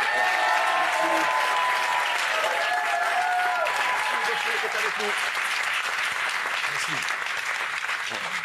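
A studio audience applauds a singer, a sustained, even roar of clapping that continues throughout while voices speak and call out over it.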